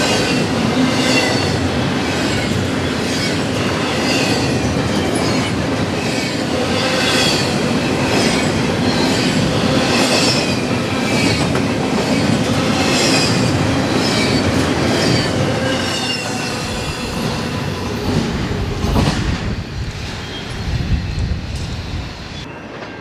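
An NS, CSX or Amtrak train rolls past in Virginia, a loud, sustained rumble with rhythmic clickety-clack of wheels on rail joints and some squealing, fading off near the end.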